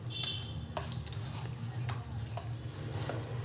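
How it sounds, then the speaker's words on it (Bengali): A spoon works spiced idli batter through a spice mixture in a bowl, soft wet squishing strokes with occasional light clinks against the bowl, faint and close over a low background hum. "মশলাটার সাথে ব্যাটারটাকে ভালো করে মিশিয়ে নেব।"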